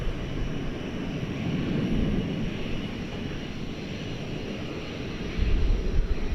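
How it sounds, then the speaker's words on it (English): An American Airlines Airbus A319 jet takes off at night at Dallas Fort Worth airport, its engines a steady, moderately distant rumble that swells louder near the end, with no talking. "you saw another flight lifting off there to Amarillo, Texas, an Airbus A319 American Flight 1536"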